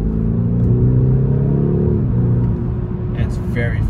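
A 2021 BMW 430i Coupe engine pulls hard under acceleration, a loud, close, steady rising drone heard from inside the car, with a person speaking near the end.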